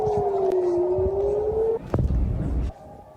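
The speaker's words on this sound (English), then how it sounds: "We've been hearing air raid sirens and explosions across Israeli cities." A wailing air raid siren sounds in an Israeli city during a missile attack, rising and falling in a sustained tone, moderately loud, before a brief thud and a fade into quieter background.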